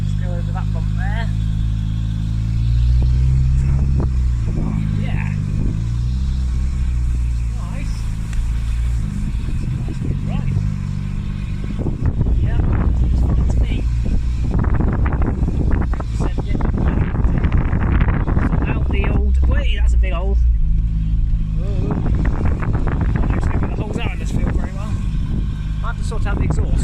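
Off-road Peugeot 306 driving over bumps on rough ground, a loud engine growl with wind buffeting the microphone, rising and surging as the car lurches, while people talk over it.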